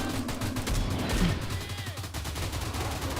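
Dense automatic gunfire from a player shooting a dog in the video game STALCRAFT, loud and sustained in rapid bursts throughout with a low rumbling undertone.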